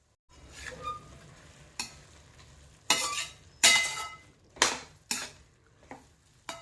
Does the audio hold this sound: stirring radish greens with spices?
yes